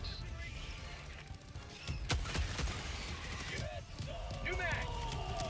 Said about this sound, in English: lot of explosions going on there.